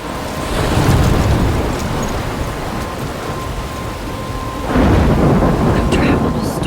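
Thunderstorm in the game Life Is Strange, with heavy rain hissing throughout and two loud rolling thunder rumbles, one at the start and another swelling near the end.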